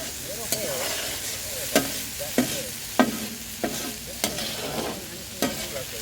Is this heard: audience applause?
no